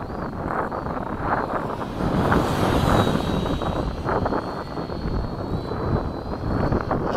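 Radio-controlled model jets, a Freewing 80mm F-5 and an HSD 105mm Mirage, flying overhead with a steady ducted-fan roar and whine, rising and falling in loudness over heavy wind noise on the microphone.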